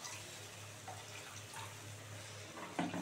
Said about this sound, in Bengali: এই যে এবার হচ্ছে জলটা দিয়ে দিচ্ছি,